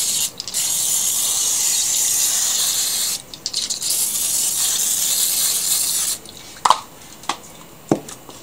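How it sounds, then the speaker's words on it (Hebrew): Canola oil misted from a spray bottle onto a hot ridged grill pan, several sustained close spray hisses broken by short gaps, followed by a few sharp clicks and squeaks of the sprayer mechanism. "יש לי כאן שמן של קנולה בשפריץ"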